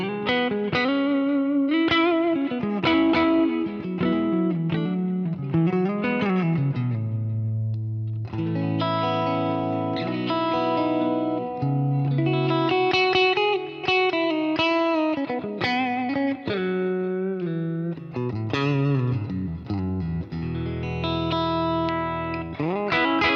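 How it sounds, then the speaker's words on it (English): An electric guitar plays through a Kemper profile of a '65 Deluxe Reverb amp, a clean-to-lightly driven melodic passage of single notes and chords with warm sustain, ringing loud and continuous with no talking. "That's just a 65 Deluxe Reverb V2 on the Kemper, and it sounds amazing"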